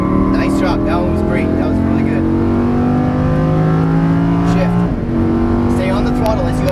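A Lamborghini Huracan LP610-4 engine pulls hard on a track, a loud close whine rising in pitch through gears with one quick upshift dip midway, while an instructor speaks over it.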